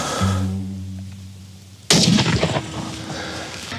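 Gunshots in a combat setting against Islamic State fighters: a single sharp, loud report cracks out after a low rumbling engine hum, followed by a decaying echo.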